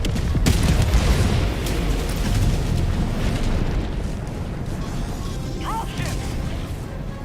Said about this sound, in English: Placing orbital strike. Firing orbital strike.